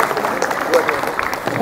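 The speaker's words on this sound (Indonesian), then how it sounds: "Oke, tepuk tangan dulu." A group at a PSHT martial arts training session bursts into a short round of applause, with a brisk, dense clatter of hands close by. Voices talk over the clapping.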